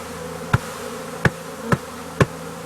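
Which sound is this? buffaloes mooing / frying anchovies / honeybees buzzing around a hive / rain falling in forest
honeybees buzzing around a hive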